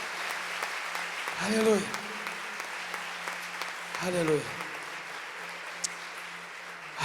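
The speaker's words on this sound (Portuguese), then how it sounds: "Pode aplaudir, pode aplaudir." Applause from a church congregation fills the background throughout, steady and moderately loud beneath a preacher's voice calling out in Portuguese.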